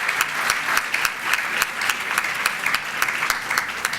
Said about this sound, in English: How about some applause for you?